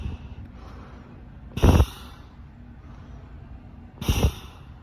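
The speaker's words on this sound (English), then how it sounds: "You can hear me breathing." Two loud, hollow breaths through a Honeywell full face respirator mask, each a short rushing gust, separated by a few seconds of quiet hiss; close to the microphone.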